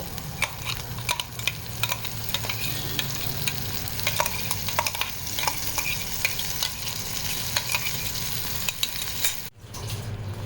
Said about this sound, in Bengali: মশলাটা ভালো করে এইভাবে ফ্যাটাতে হবে